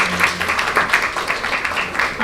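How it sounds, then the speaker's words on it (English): Audience applause for Dr. Kinkubu at a skincare presentation event, a steady patter of clapping with a few stronger claps, moderately loud and continuous across the short stretch. "another round of applause"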